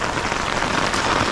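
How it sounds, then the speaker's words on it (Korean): Heavy rain pours down steadily on a caravan at a campsite, a dense, loud hiss of drops drumming on surfaces with no pauses and no voices. "완전 소나기가 쏟아지고 있습니다 지금."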